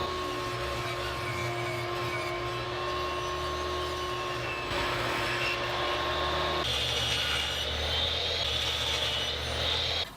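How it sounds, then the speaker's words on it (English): Table saw ripping a fretboard blank of wood for a bass guitar neck, a steady loud whine and roar running throughout with a shift in pitch partway as the blade bites, no voices. "Now I can rip it down to size on my table saw."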